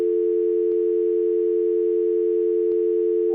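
Steady VoIP telephone dial tone after the handset is lifted, a loud continuous hum held without a break, interrupted only by two faint clicks.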